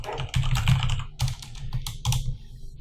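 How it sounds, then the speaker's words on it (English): Rapid typing on a computer keyboard with clustered bursts of clacking keystrokes, close and steady, heard alone without any talk. "I think I need to slow my typing down."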